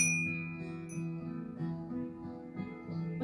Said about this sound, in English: We ring the bell for Eric Peterson.